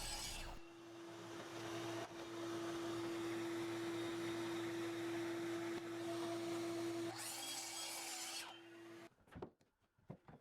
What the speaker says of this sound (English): So then I just cut it with miter saw.